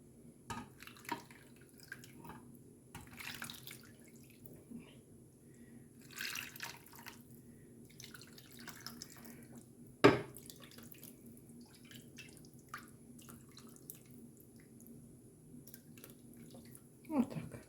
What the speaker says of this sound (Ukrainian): І тепер заливаю.